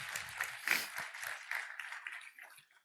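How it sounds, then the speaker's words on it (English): An audience at a Python programming conference talk claps for volunteers, a short burst of moderate applause that peaks early and fades out within a few seconds. "Round of applause for our volunteers."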